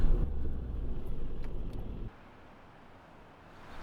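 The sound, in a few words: car driving, heard from inside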